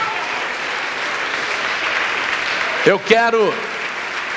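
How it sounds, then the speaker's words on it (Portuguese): A church congregation claps in a steady, sustained round, and partway through a voice speaks briefly over the applause before it carries on. "Vamos aplaudir mais"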